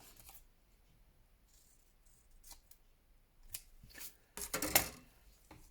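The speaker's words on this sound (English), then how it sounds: "So I'm just trimming this up." Paper being trimmed with scissors for a handmade journal, a few soft snips early on, then sharper, louder cutting clicks near the end, close by in a quiet room.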